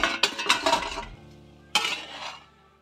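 A spoon scrapes and clinks against a pan while ragi flour is stirred into upma, a quick burst of stirring knocks followed by a pause and one more scrape.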